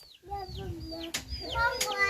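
Chickens penned up near a home cluck and squawk in repeated short, falling calls close by, with a couple of sharp noisy bursts and possible children's voices in the background.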